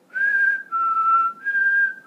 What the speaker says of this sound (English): I started whistling, and somebody automatically say, "Is that Home Alone?"